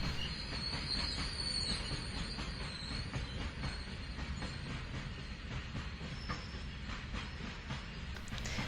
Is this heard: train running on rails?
yes